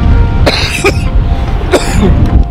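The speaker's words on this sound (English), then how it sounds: "Please excuse me now, coughing my backside out." Two harsh coughs come in quick succession, close to the microphone, over a steady rumbling background at Heathrow Airport with a plane landing.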